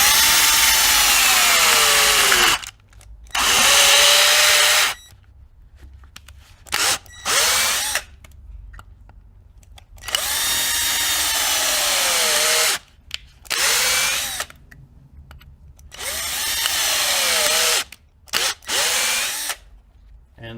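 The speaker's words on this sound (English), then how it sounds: "Okay, time for some drilling. I will just drill holes close to each other" A power drill whines loudly in repeated bursts of several seconds each, separated by short pauses, grinding steadily as it bores rows of closely spaced holes in metal on a Volvo S60/V70 rear control arm bushing.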